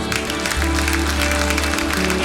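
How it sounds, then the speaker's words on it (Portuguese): A church congregation applauds during worship, a steady wash of clapping hands under sustained music with a low held tone throughout. "Dê um forte aplauso a Ele."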